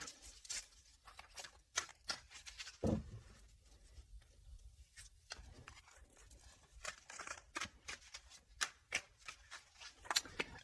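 Tarot cards being shuffled for a reading: quiet, close, irregular flurries of soft riffling clicks and light taps, with brief pauses between bursts.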